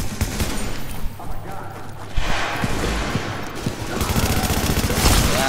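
Gunfire in the video game The Division, repeated bursts and single shots in quick succession, loud and close, with a player's voice talking over the action.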